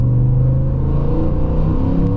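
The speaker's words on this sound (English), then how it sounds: "that engine just sounds so good" A 2023 Ford F-150 XL pickup's Coyote V8 engine revs loudly and close, a deep throaty rumble rising and holding strong for a couple of seconds.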